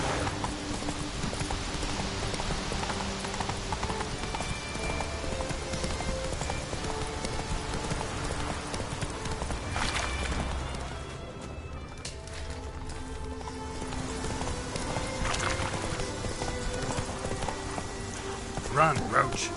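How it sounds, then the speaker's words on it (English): Hooves of the horse Roach gallop in The Witcher 3, a steady rapid clip-clop running throughout, blended with dense game ambience and background voices. "Run, Roach"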